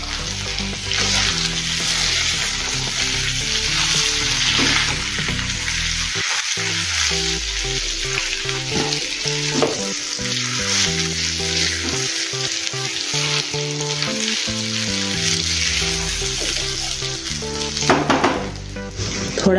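Spiced semolina and rice-flour snack mixture being stirred in a pan, giving a steady, continuous scraping sizzle that stays loud and even throughout with occasional clinks of the utensil against the pan.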